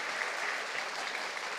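Brief burst of steady, fairly soft crowd clapping from a concert audience, an even wash of many hands without cheers or voices.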